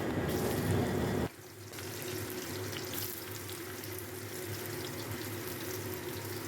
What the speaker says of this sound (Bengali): এবার আমি এঁচুরটা ভেজে নেব ভালো করে